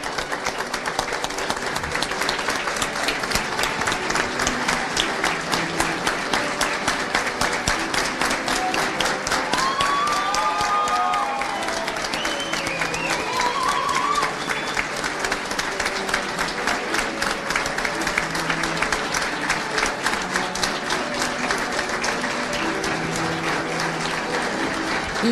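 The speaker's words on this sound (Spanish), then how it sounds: "quiero pedirles que se pongan de pie y que se brinden un fuerte aplauso" Graduates of a radio, television and digital media diploma course stand and applaud themselves, loud continuous crowd clapping lasting the whole stretch, with faint cheering voices rising briefly in the middle.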